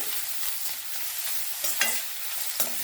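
Onions fry in a pan over low gas and give off a steady, loud sizzle, while a utensil stirs them with a few scraping strokes near the end.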